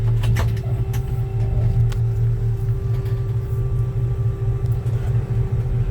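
Low, steady rumble of a 1966 Chevy C10 pickup engine idling and creeping in reverse, a deep even drone with occasional small clunks and rattles, close by and without talk.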